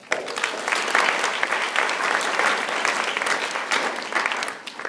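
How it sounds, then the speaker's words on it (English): Sustained applause from an audience at an anatomy and physiology course introduction, dense steady clapping throughout that tapers off at the very end. "Let's give them a round of applause."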